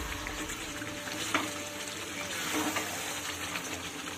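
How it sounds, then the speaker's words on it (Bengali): Palak chicken with spinach is stirred and sautéed in an oiled pan as it slowly fries down, giving a soft continuous sizzle with occasional scraping stir strokes and light clinks, fairly quiet and close, with no talking. "মাঝে মাঝে একটু নাড়াচাড়া দিয়ে ধীরে ধীরে কষিয়ে নিতে হবে।"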